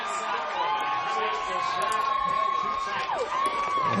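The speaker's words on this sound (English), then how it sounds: "And the Jets crowd shows their appreciation." A high school football crowd cheers after a sack, a steady roar of shouts and whoops from the stands, with a thin whistle-like tone running through it and a commentator talking over it.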